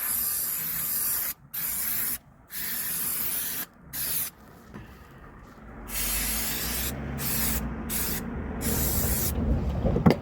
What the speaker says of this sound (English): So where's our brake cleaner? Clean them up.